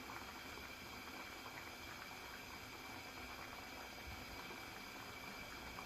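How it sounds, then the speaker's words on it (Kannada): A pot of bottle gourd buttermilk sambar boils steadily, giving a dense, even bubbling hiss that holds constant throughout, with no voices. "ಇದನ್ನು ನಾವು ಕುದಿಸಿ ಇದು ಆರಬೇಕು."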